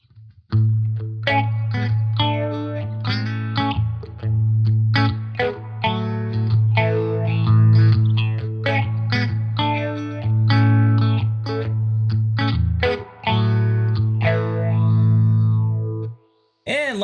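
Electric guitar through a Sitek Phasia phaser pedal on its sine waveform, distorted chords and sustained notes swirling with a smooth sweep, loud and continuous with a couple of short breaks, no speech.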